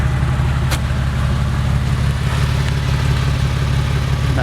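A Porsche 911 996 fitted with a DesignTek sport exhaust ticks over at idle, a steady low, even burble held close and constant with no revving or voices.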